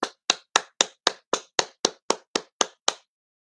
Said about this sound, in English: I'm clapping here as if I was in St.